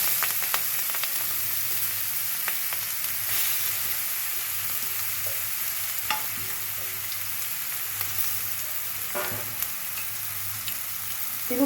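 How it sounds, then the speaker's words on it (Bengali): Nigella seeds and slit green chillies sizzle steadily in hot oil in a wok, a continuous hiss with occasional crackles and pops, close and fairly constant from start to finish. "কড়াইতে এবার কালো জিরে ফোড়ন দেব দেবো চারটে কাঁচা লঙ্কা"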